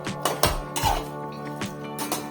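A spoon clanks against a metal pan while cooked ragi kozhukattai balls are stirred into sweet syrup, giving several sharp, close knocks and scrapes over a low steady hum.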